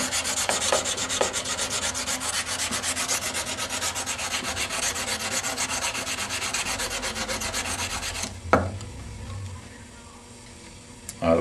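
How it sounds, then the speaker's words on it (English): A steel blade is honed back and forth on fine-grit abrasive in a fixed-angle sharpening jig, with steady rasping strokes for about eight seconds, then a clunk and a quieter pause before another stroke begins. "hone this blade."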